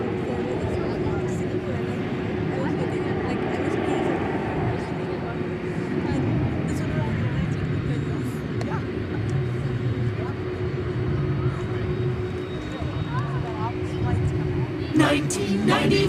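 An aging UPS tri-jet aircraft taxis into its berth at DFW Airport at night, a low, continuous engine rumble and whine that stays steady and moderately distant, with a few brief clicks toward the end.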